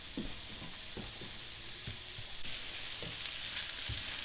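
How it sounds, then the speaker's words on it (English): Bacon bits, used in place of pancetta for a chicken pie, frying in a pan until browned and crisp, with a steady close sizzle and occasional stirring scrapes and knocks. "And just brown those off nicely so they have a sort of crispiness"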